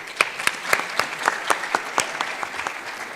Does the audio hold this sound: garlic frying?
no